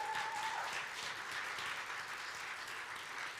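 A played recording of a crowd applauding fills the space with steady, dense clapping that holds at an even level throughout, with no voices over it.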